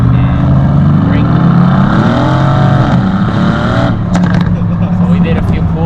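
Mercedes-AMG C63 S with an AWE Track exhaust revs hard through an acceleration pull, a loud, close engine drone rising and falling in pitch, with crackles near the end.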